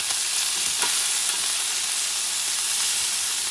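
Fish sizzling in a hot pan for fish fried rice, a dense steady crackling hiss of oil with scattered pops, close and loud throughout.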